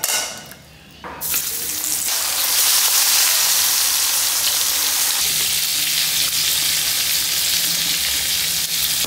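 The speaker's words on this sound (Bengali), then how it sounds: "ইলিশ মাছ ভাজা" Hilsa fish fries in hot oil over a clay stove, a loud, steady crackling sizzle that swells in after a quiet start and continues without talk.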